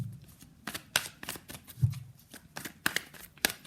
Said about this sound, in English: let's pull some cards from universe